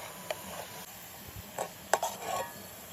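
A knife slices through rolled potato dough into long strips, giving a few scattered soft taps and scrapes on the board, quiet and close, with no talking.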